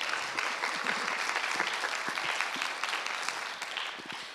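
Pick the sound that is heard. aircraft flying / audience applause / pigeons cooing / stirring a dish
audience applause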